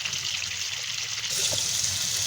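Water pours into a pan of kofta curry masala while it cooks, a steady trickling splash that stays close and continuous and grows slightly stronger partway through, with no talking.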